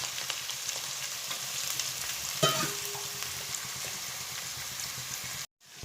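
Onion, ginger and garlic fry in coconut oil for kappa biriyani, a steady close sizzle with a brief louder burst and clatter partway through, then a sudden cut to near silence.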